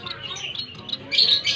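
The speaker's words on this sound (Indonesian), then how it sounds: "kalau bisa master burung emprit aji." Emprit aji finch song played back from an MP3 file for bird training, a short run of high thin chirps and twitters, brightening toward the end, with faint background noise.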